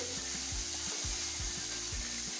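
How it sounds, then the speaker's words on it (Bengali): Fish fry in hot oil in a pan, a steady bright sizzle and hiss running continuously while soft, rhythmic low tones pulse underneath. "মাছগুলো একটু ভেজে নেবো"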